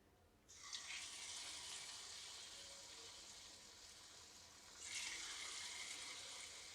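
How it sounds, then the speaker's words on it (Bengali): Chicken pieces for honey garlic chicken drop into hot oil and fry with a loud, steady sizzle that starts abruptly, holds continuously, then swells again as more pieces go in, with no talking. "এবার আমি এর মধ্যে একে একে চিকেনগুলো দিয়ে ভেজে নেব।"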